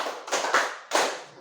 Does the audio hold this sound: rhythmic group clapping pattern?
yes